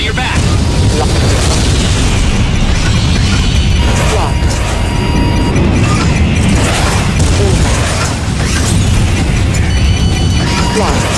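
Airstrike explosions from the PS2 video game Heatseeker rumble in heavy, overlapping booms over a dense, loud game soundtrack, continuous throughout and close in the mix.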